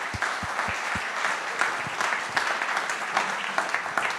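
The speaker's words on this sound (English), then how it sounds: "Please join me in applauding our speakers and thanking them once again" Conference audience applauding speakers at the end of a Q&A session, steady moderate clapping throughout, fairly distant in a hall, with a few louder individual claps up front.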